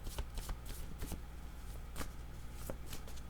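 Oracle cards being shuffled by hand, a rapid run of crisp riffling flicks and slaps heard up close, with no talking.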